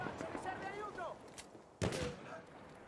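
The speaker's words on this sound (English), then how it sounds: "Maschinengewehr, eindeutig feindlich!" Enemy submachine gun fire in a Battlefield 1 match: a couple of faint, distant gunshot bursts, one sharper crack near the end, under a soldier's voice speaking.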